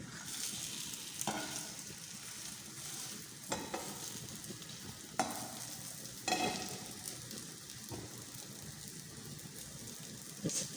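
Aloo kababs (potato patties) fry in a pan with a steady, even sizzle, broken by several sharper bursts of crackle as they are turned or nudged.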